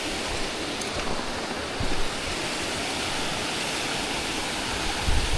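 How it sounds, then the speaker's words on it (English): A mountain creek in Mt Robson Provincial Park rushes steadily, a dense, even roar of flowing water close by with only slight swells in loudness. "Heading down into this area where we get to see the creek."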